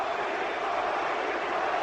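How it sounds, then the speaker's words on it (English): Large arena crowd at a 2000 St. Louis Blues versus Toronto Maple Leafs hockey game during a fight, chanting a player's name as a dense, steady roar with no clear rhythm. "And the crowd is chanting his name."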